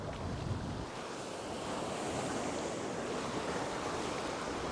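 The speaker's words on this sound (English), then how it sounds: "That wind is still really strong" Strong wind roars across a beach during surf fishing, with steady breaking surf beneath it and heavy wind buffeting on the microphone the whole time, loud and continuous with no talk.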